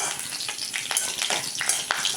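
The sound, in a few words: coconut oil tempering sizzling in pan for fish curry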